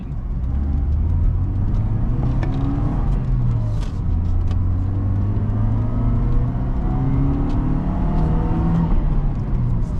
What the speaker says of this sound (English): You hear the little supercharger go whoop.